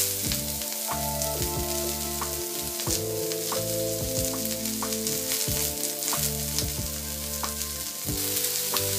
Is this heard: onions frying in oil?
yes